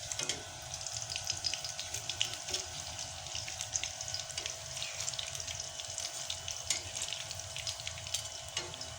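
A fresh batch of pakoras frying in oil in a pan, a continuous low bubbling sizzle with scattered small pops and crackles, steady and fairly quiet at close range.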